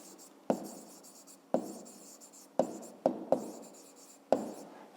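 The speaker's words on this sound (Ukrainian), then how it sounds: "Пишемо відповідь." Pen writing an answer in a notebook during a maths exercise, heard as a series of six sharp taps, each followed by a short scratchy stroke, close and fairly quiet with no talk.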